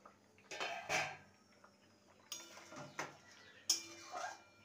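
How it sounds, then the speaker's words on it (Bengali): A metal pot lid is lifted to check potatoes boiling for a potato and brinjal curry. Several soft clanks and scrapes of metal sound close by over a quiet background, with no speech. "ঢাকনাটা খুলে দেখে নেব"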